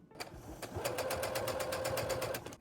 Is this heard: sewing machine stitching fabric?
yes